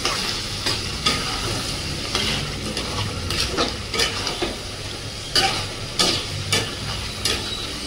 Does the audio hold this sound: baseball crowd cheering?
no